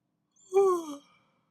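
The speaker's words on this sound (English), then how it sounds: "Yawning here." A single breathy yawn, rising then trailing off, close and fairly loud, lasting under a second.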